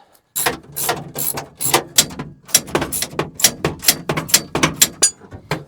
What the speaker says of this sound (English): if I can find my ratchet and socket